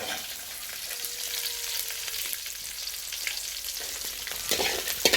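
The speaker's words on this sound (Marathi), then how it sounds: "आणि आता ह्याच्यात टाकला आहे कांदा, बघा कसं दिसतं." Onion fries in a pan for a village-style morning breakfast, a dense, steady close sizzle with stirring scrapes that gets a little louder near the end, with no talking.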